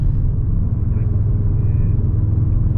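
An Audi RS6 Avant is driven fast around the Fuji Speedway circuit, giving a loud, dense, steady low engine rumble with constant road and wind roar and no clear shifts or gaps.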